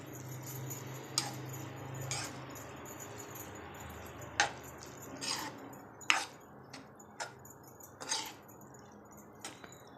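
Spoon stirring chili powder into a dish in a metal pot, giving soft scrapes and several sharp clinks against the pot at irregular intervals over a low steady background hum, close by with no talking.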